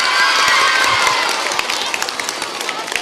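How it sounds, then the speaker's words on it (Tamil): A crowd applauds and cheers for a maths teacher, a dense burst of clapping and shouts that gradually thins into scattered claps. "இதெல்லாம் இந்த மேத்ஸ் டீச்சருக்கான கைத்தட்டல் தான்"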